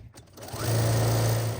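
A sewing machine stitches a quilted mat, its motor rising quickly into a loud, even high whir that holds steady, with no voices.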